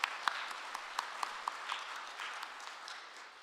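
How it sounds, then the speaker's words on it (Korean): A church congregation at Sunday Mass claps in welcome, a soft, fairly distant wash of applause with a few sharper individual claps standing out near the start, then fading gradually. "환영의 박수 부탁드립니다"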